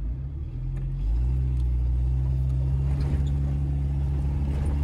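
A pickup truck with a camper drives off-road, its engine a steady close rumble that swells as it pulls away after a brief idle, continuing loud and unbroken.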